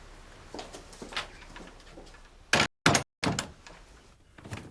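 A door is handled indoors: several close knocks and clunks, then a sharp bang and a rattle as it shuts, with quiet room tone between.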